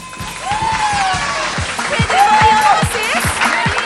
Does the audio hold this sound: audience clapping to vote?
yes